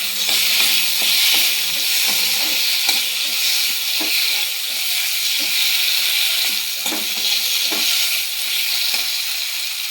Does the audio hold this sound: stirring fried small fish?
yes